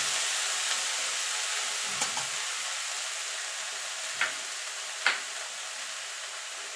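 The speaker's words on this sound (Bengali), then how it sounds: "এখানে শাকটা যে কেটে রেখেছি দিয়ে দেবো। এবার নেড়ে দেবো।" Chopped chickpea greens sizzle gently in a pan, a steady faint hiss with a few sharp spatula knocks and scrapes as they are stirred.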